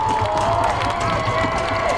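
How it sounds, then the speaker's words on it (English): Crowd at a varsity high school football game cheers and claps in a steady, loud wash of noise that never lets up, with a faint tone and scattered voices running underneath. "The crowd is really getting into it."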